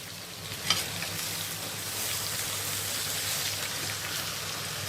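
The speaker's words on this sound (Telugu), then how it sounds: "ఈ ముక్కలు మంచి కలర్ వచ్చేంత వరకు ఫ్రై చేసుకోవాలి" Vegetable pieces fry in a pan with a steady, close, hissing sizzle and a soft knock of stirring near the start, continuing evenly throughout.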